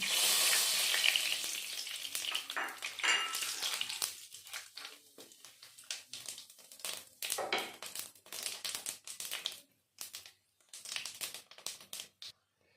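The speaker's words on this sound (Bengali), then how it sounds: "এখন ফোড়ন দিয়ে দিচ্ছি ওই তেলে একটা তেজপাতা শুকনো লঙ্কা গোটা গরম মশলা" Bay leaf, dried red chilli and whole garam masala crackle and sizzle in hot oil in a pan while making vegetarian begun sundori, a loud burst at first that settles into intermittent spitting and stirring scrapes.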